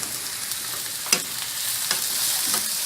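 Spanish rice sizzling in a pan while being stirred: steady bright frying hiss, close and continuous, punctuated by a few scraping stirs of a utensil, one noticeably sharper.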